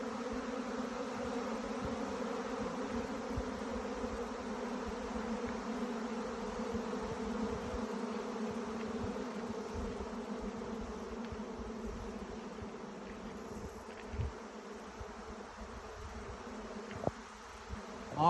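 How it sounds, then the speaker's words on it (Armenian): A huge honey bee swarm buzzes steadily around an empty hive outdoors, a dense, continuous drone that stays close and loud throughout, with a few faint knocks near the end. "պարսը դուրս եկավ, չգիտենք որտեղից է դուրս եկել, բայց ինքը ուզում է փեթակ մտնի"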